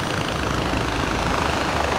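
A steady, droning helicopter engine in the video game Far Cry 4, with a constant rotor hum, loud and unbroken throughout.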